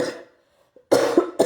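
Close, sharp coughs from a person with a lingering illness: one at the start, a pause, then a harsh double cough in quick succession.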